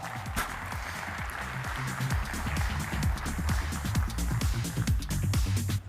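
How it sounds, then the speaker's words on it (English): A convention hall crowd at the 2011 American Baseball Coaches Association gathering breaks into steady, sustained applause, a dense wash of many hands clapping at moderate distance for the full stretch before tapering at the very end. "Let's give them a round of applause."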